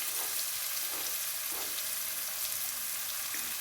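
Three medium potatoes frying in a pan for rava upma, giving a continuous loud, dense sizzle with faint soft stirring knocks underneath.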